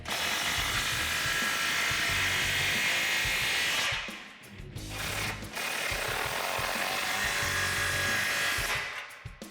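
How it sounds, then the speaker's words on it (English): A power tool runs continuously while tightening the tailpipe clamps and hanger on a 2017-2019 Ford F250 Super Duty 6.7L truck exhaust, a close whirring buzz with a brief dip midway before resuming. "Finally, tighten down the clamps holding on your tailpipe and the tailpipe hanger."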